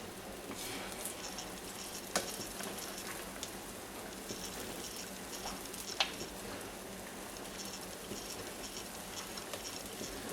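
Buttermilk pancakes cooking in a buttered pan, a soft steady sizzle with faint crackles and a few sharper pops, no talking.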